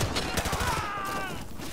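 An MP5 submachine gun fires in Call of Duty: Modern Warfare 2 Remastered, rapid bursts of gunfire crackling loudly and close in quick succession.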